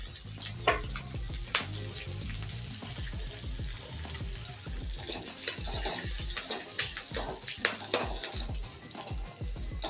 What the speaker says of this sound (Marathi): तेल गरम झाल्यानंतर कढीपत्ता आणि मिरचीचे तुकडे टाकूया